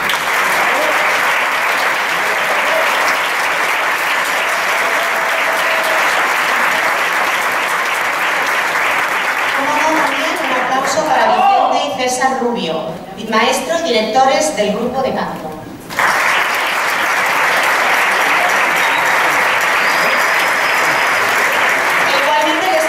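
Sustained audience applause for a rondalla directed by maestro Jesús Monleón at a Centro Aragonés del Puerto de Sagunto event, steady and full for about ten seconds, then briefly giving way to someone speaking before the clapping resumes.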